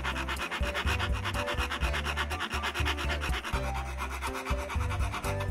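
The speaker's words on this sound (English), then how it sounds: "I used a small file to smooth the freshly cut edge." A small metal file rasps back and forth in quick steady strokes along the freshly cut edge of a metal blade, close and continuous with no talking.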